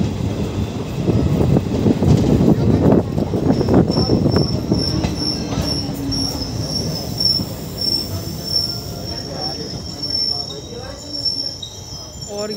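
Mathura-Jaipur 04173 passenger train pulling out of Ramgarh railway station, its wheels squealing in high sustained tones over loud rumbling and clatter, the noise fading gradually as the train moves.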